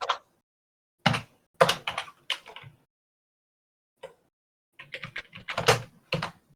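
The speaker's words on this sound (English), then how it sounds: "That's the most loud typing I've ever heard." A loud computer keyboard is typed on in sharp clusters of clacks, with long silent gaps between bursts. The keys sound close to the microphone, and no voices are heard.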